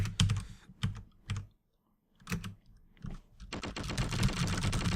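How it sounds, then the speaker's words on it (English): A typewriter in the video game Eveline clacks in rapid rattling bursts, separated by a near-silent gap, then a long dense run of keystrokes, close and clear. "Well, there's a typewriter, back to it."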